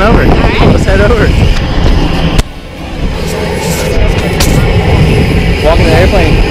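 Skydiving airplane engine droning steadily under people talking, with a brief dip in level partway through and a continuous broadband roar throughout; a skydive outing in Tennessee on a clear day.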